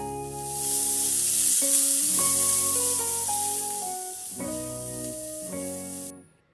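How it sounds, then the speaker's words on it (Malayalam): Tempering poured into a thick Kerala dal curry gives a loud, steady sizzling hiss lasting about six seconds, then cuts off abruptly, with sustained musical tones playing over it. "ഇത് നമുക്ക് ഈ കറിയിലേക്ക് ഒഴിച്ചു കൊടുക്കാം."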